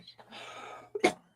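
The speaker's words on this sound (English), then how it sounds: "hold on, I gotta cough up a lung." A person coughs up phlegm in a couple of harsh, close bursts after a faint rasping breath, a short throat-clearing cough caught during a talk-show conversation.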